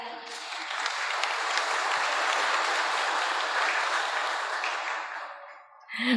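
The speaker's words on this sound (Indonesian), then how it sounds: "Boleh kasih aplaus meriah?" Crowd applause at an Indonesian cultural event with a provincial council: sustained, dense clapping that holds steady for several seconds, then fades out quickly as a voice comes back in at the end.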